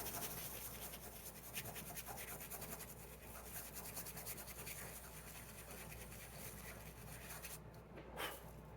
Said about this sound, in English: But I can just scrub that out with this